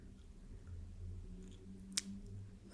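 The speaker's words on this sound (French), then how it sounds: "c'était celle-ci, la vraie paire de ciseaux." A real pair of scissors makes a single short, crisp snip near the mic, heard close and alone against a soft, low steady background.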